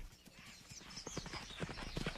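Horse hooves clip-clop in a quick, uneven patter of soft thuds, faint and somewhat distant, with no speech.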